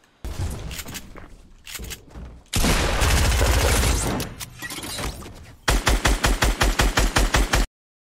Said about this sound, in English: Well, I'm getting shot from both sides again.